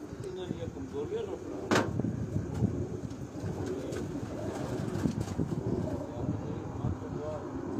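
A crested pigeon coos softly in the background, partly masked by voices and handling noise nearby, with a sharp knock early on.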